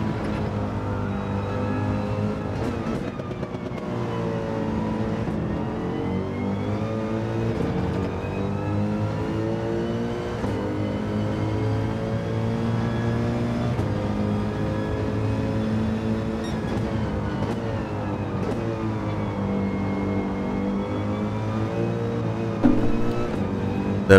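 Mercedes AMG GT3 race car engine in Gran Turismo 7 at Lago Maggiore, a loud, continuous close-up drone that rises and falls through gear changes over a full lap, with no talk.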